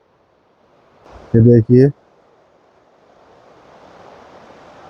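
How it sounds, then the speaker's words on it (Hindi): The Yamuna river flows past Barni Ghat near Gangnani in Uttarkashi district, giving a steady broadband rush of clear mountain water that swells gently; a voice speaks briefly over it near the start. "मेरे पीछे यमुना नदी बह रही है"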